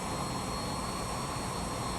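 Aircraft jet engine running on the ground, a steady, continuous whine and roar holding at constant power, fairly distant and even throughout.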